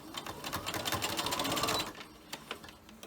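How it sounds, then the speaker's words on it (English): A sewing machine stitches a fabric face mask made from fat quarters closed, running in a steady rapid whir for about two seconds before stopping, followed by a few faint handling taps. "now we're just going to sew this closed"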